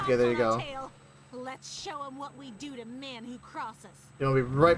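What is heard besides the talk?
No everyday noises stand out.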